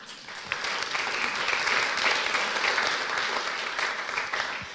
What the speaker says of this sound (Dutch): En dat applaus is zeker niet overdreven